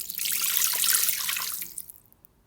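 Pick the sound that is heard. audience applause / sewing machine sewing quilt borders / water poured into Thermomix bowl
water poured into Thermomix bowl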